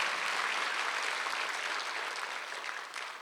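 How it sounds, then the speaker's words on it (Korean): A church congregation claps during a Sunday worship service, a dense, even roar of many hands that fades slightly toward the end. "빨리 박수하세요."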